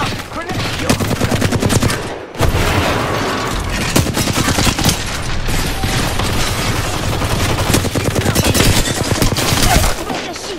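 Dense video game gunfire rattles almost without pause, rapid automatic bursts piling into a loud, continuous barrage with only a brief gap near the start.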